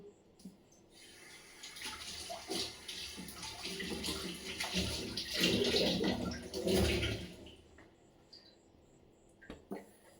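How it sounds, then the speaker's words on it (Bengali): Water runs from a kitchen tap during cleaning, a steady close splashing stream that swells and fades over several seconds before cutting off, followed by a few faint clinks. "এখন রান্নাঘর পরিষ্কার করব।"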